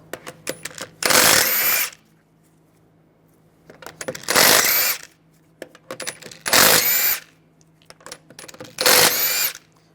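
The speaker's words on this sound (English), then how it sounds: "use a 17mm socket, take the lug bolts out" On a 2006-2009 Mercedes-Benz E350, an impact tool with a 17 mm socket spins off four lug bolts in loud, roughly one-second bursts, with light metallic clinks and handling clicks in the quiet gaps.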